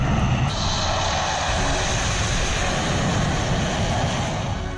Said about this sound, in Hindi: एक्सप्रेसवे पर रिहर्सल करते लड़ाकू विमान की गर्जना